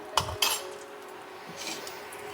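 A metal spoon clinks twice against a pot holding oats and tomato soup with garlic and ginger, then scrapes softly. The sounds are close, brief and quiet, and no one speaks.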